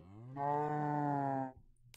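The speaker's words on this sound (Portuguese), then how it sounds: "Sai daí, vaca." A single drawn-out cow moo from Minecraft, close and loud, holding steady for about a second before stopping abruptly, followed by faint game noise.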